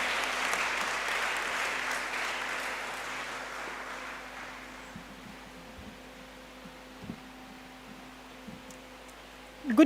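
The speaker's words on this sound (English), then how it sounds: "Another round of applause, ladies and gentlemen." Broad applause from a crowd at a university department's 60th anniversary launch fills the room, then gradually fades away, leaving a faint hum and a few scattered sounds.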